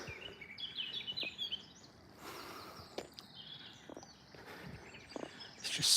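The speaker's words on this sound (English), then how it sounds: "Just listen to the birds." Birds singing on a quiet wooded hillside near the Chained Oak at Dimmingsdale, scattered chirps and short song phrases at moderate distance over a hushed background with occasional soft footsteps.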